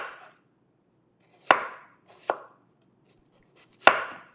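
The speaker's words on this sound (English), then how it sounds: "Now I'm gonna just chop it up." A knife chops spring onion on a cutting board in three crisp, separate strikes with short pauses between, close and clear in a quiet room.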